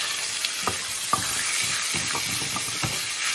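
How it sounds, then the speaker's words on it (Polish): Sliced mushrooms and chicken fry and sizzle in a pan for a chicken and mushroom pie, with a continuous hiss broken by several scraping stirs of a utensil, close and fairly loud. "Ja podsmażam zawsze tak na pół, żeby nie był za bardzo smażony."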